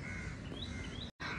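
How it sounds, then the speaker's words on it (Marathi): Birds call in Kamala Nehru Park and the Hanging Garden in Mumbai, giving a few faint, rising chirps and caws over steady outdoor hiss, ending in a brief cut. "हे छोटे छोटे पक्षी आहे ना पूर्ण इकडे असे खेळत आहेत"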